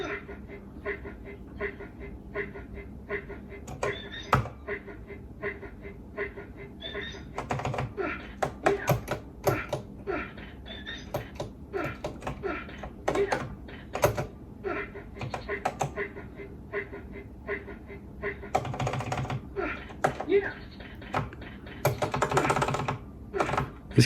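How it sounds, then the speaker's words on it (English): Clacky, loud typing on the keyboard of a 1980s Macintosh Plus computer, close and irregular keystroke bursts running throughout with occasional louder clusters and faint breathing or chuckles. "This keyboard's so loud."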